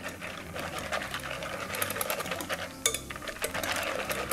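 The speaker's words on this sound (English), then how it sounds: "I'm just gonna give this a whisk." Whisk beating a mustard and pepper dressing in a bowl, a fast steady metallic rattling and clicking close up, continuing for several seconds with no talking.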